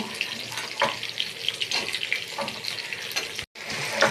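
Carrots frying in a pan while bitter gourd waits to go in, giving a steady close sizzle and crackle with faint stirring clatter and a brief pause near the end.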